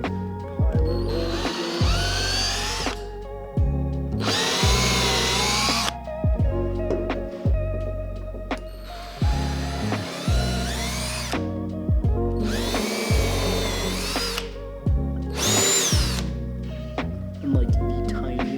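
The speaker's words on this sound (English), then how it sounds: "Just drilling the pilot hole." A power drill bores a pilot hole in wood during a desk upgrade. It revs hard in repeated bursts of a few seconds each, separated by short pauses, with a whining pitch that rises and falls as the bit bites.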